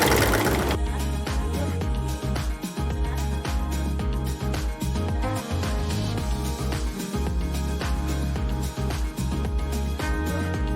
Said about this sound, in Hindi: अब मैं इसकी सिलाई इस कंधे के साथ ये कंधा मिल जाएगा।